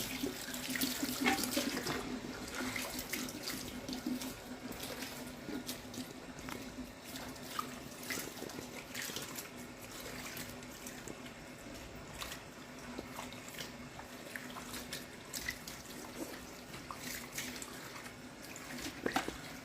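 Water runs steadily from a tap at a hairdresser's sink while hair is rinsed, a continuous splashing hiss with small irregular spatters throughout and no talk.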